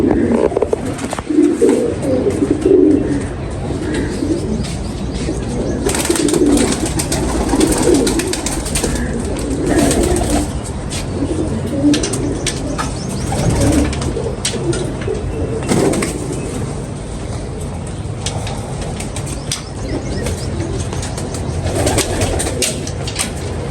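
Pigeons cooing at a loft, a steady chorus of low rolling coos with occasional wing rustles and flutters, fairly close and continuous throughout, no talk heard.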